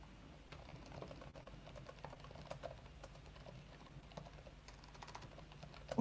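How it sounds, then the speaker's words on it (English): Rapid typing on a computer keyboard, a quiet, steady patter of key clicks in fast bursts with a faint background hum and no talking. "Oh, here you're typing away"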